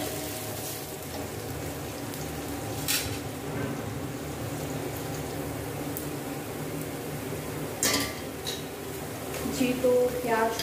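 Onions fry in a pan for aloo pulao, giving a steady close sizzle with a few sharp clinks of a utensil against the pan. A voice speaks at times over the frying.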